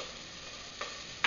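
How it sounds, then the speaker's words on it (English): Onions and celery sweat in a pan, a soft, even sizzle with a couple of brief stirring scrapes toward the end. "we're going to saute and sweat our onions along with celery"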